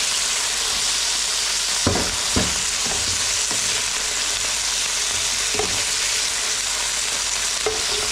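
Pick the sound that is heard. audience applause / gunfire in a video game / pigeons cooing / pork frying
pork frying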